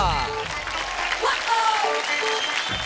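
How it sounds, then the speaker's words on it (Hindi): Studio audience applause bursting out on a televised Indian kids' dance competition stage, loud continuous clapping with crowd noise and a few cheers throughout. "तालियां!"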